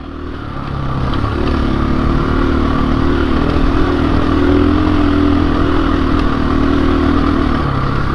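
2021 KTM 500 EXC-F dirt bike climbing a steep Black Diamond trail, its engine a loud, steady, close drone that holds under load for the whole stretch without pause.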